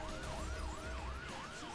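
A fire engine siren in a video game wails in a rapid, regular up-and-down sweep, repeating about four times over a low engine rumble, fairly quiet overall.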